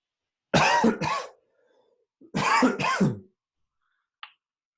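Two bursts of harsh coughing, each a pair of quick rough coughs, separated by a short pause, with a faint click at the end.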